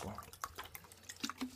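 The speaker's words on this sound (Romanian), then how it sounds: "Și iau apă de la robinet și torn." Tap water poured from a faucet over a carbon steel knife blade to cover it, giving faint close splashing and trickling with scattered drips, no talk.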